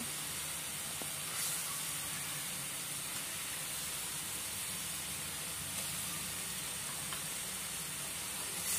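Water poured into a hot pan of masala for toor methi dhokla curry gives a steady, even steam hiss and sizzle that lasts throughout, with no voices.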